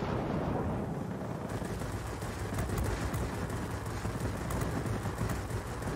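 Rapid, sustained machine gun fire from a Grumman XP-50 fighter attacking an airfield in World of Warplanes, a dense continuous rattle of shots over engine roar with no talking.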